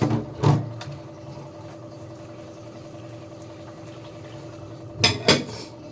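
Pots and dishes are rinsed by hand in a home kitchen. A couple of brief metallic clatters come near the start and again near the end, over a faint steady hum.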